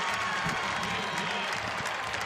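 A big crowd at a college football stadium, Georgia State at Georgia Southern, roars with steady applause and cheering that sounds dense and continuous, with speech mixed in.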